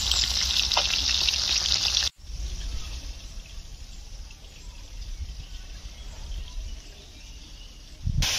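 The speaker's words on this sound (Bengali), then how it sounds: "বন্ধুরা বাকি মাছগুলো আমি ভেজে নিচ্ছি" Fish sizzle steadily in hot oil in a pan, a continuous close hiss with a brief break partway through; the pond fish are being fried.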